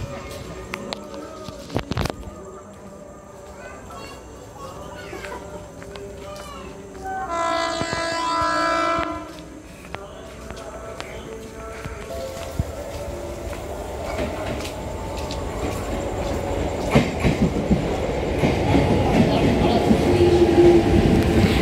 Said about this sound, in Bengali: দেখো ট্রেনটা খালি কত ফাঁকা, মানে জেনারেল কম্পার্টমেন্ট তবু একটু ভিড় আছে